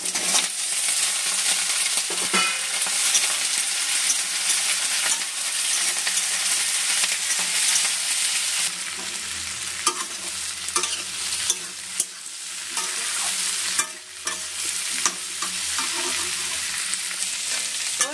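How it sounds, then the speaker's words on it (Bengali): Continuous loud sizzling of vegetables frying in a pan, with occasional scrapes and clinks of stirring, and no voices. "সব সবজি কটা একসাথে ভেজে নেবো"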